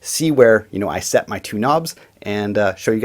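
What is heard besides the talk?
No everyday noise stands out behind the speech.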